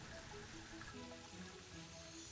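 Rain in the video game Terraria, a soft, constant patter and hiss of falling water playing quietly and evenly throughout, with faint tonal bits of game sound and no talking.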